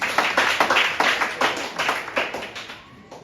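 An audience at a basic schools science and mathematics quiz final claps steadily for a team, close and fairly loud, the applause fading toward the end.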